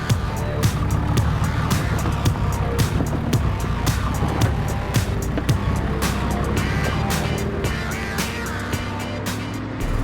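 A vehicle rattles and roars along a rough, dusty, winding Cape York outback track, the engine droning loudly and steadily while bumps and stones knock against the body throughout.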